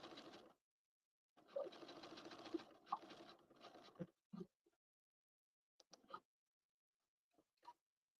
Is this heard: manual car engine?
no